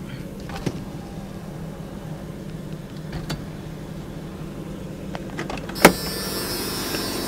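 Power windows on a 1995 Jeep Cherokee run faintly under the steady hum of the idling engine, followed by a short sharp click near the end.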